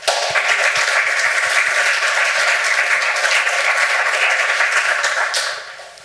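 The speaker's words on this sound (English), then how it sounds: "please give a big round of applause for Iman Fayyad." A lecture audience applauds to welcome a speaker, steady dense clapping filling the room for about five seconds before tapering off at the end.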